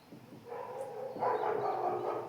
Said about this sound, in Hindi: कुत्ते बहुत भौंक रहे हैं यार